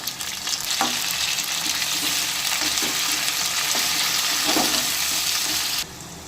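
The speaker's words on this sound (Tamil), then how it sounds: "இப்போ இது கூட தக்காளி ஆட் பண்ணி கிளறி விட்டுக்கலாம்" Onion, garlic and tomato sautéing in a pan for vanjaram fish curry, a steady close sizzle with scattered scraping stirs of a spoon throughout, then the hiss drops away abruptly near the end.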